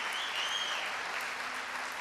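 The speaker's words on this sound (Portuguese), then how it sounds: "Aí uma salva de palmas" A church congregation gives a round of applause, a brief dense wash of many hands clapping together, steady and moderately close.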